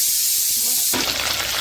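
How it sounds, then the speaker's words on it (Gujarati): Kadhi tempering sizzling in hot oil, a short quiet stretch that breaks at once into a loud, steady hiss of frying. "કઢીનો વઘાર થઈ ગયો છે"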